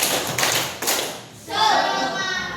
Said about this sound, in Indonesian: Oke semua, tepuk semangat.